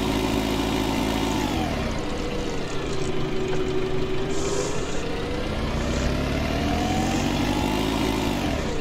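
A tractor engine in a farming game hums steadily at a constant idle, with the pitch rising and falling in slow sweeps as it revs up and eases off, close and continuous throughout.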